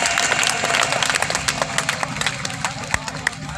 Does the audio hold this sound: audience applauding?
yes